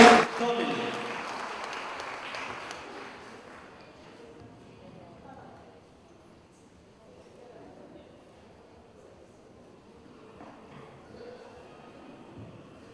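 Applause welcoming a pastor at a church gathering in Huánuco fills the opening seconds as dense, loud clapping, then fades into a quiet room with a voice speaking.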